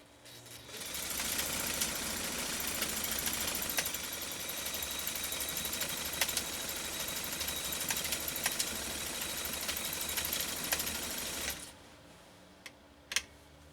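A Necchi SuperNova sewing machine stitches a cam 30 pattern with a steady, dense mechanical whir and rapid clatter that runs for about eleven seconds and then stops, followed by a few faint clicks.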